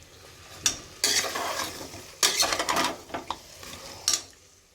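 Onion, tomato, ginger and garlic being sautéed in a pan for a meat curry, with a spatula stirring and scraping in several bursts over a soft sizzle, close and fairly loud, with quiet pauses between strokes.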